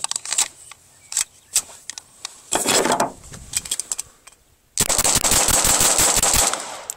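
Rapid gunfire from a magazine of Federal bulk ammo being dumped, first sharp scattered shots, then a longer sustained burst of fast, loud reports near the end, ringing outdoors.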